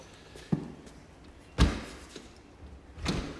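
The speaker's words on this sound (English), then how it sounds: "You're going to walk through these beautiful stained glass doors." Stained glass front doors of a house in Cape Coral, Florida, open with three dull thumps spaced about a second apart, low and moderately loud against a quiet indoor hush.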